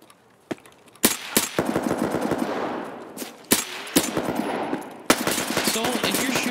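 Video game gunfire from an online shooter: sustained automatic bursts of rapid shots broken by brief pauses and single loud reports, close and dense throughout.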